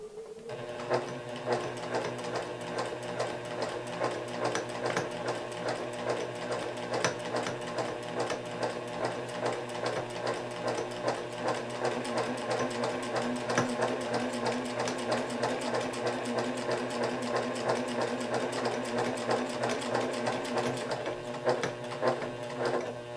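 A sewing machine runs steadily up close as it stitches binding onto a quilt, its fast, even needle clatter continuing alone with only brief slight changes in pace.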